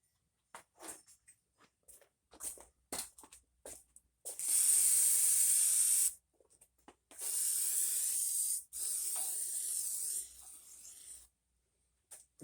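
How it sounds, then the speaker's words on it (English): Several long hissing bursts of spray clean off parts of a 1951 Farmall Super A tractor engine, close and loud, separated by short pauses and preceded by light clicks and handling noises. "Let me spray this thing off real quick."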